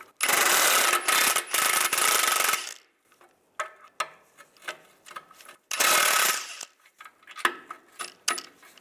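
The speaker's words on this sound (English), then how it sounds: "I'm going to take these bolts out," A ratchet with a 13mm socket spins bolts out during a front CV axle replacement on a 1999-2005 Volkswagen Jetta. Two long, loud, whirring runs alternate with quieter bursts of clicking and metallic handling.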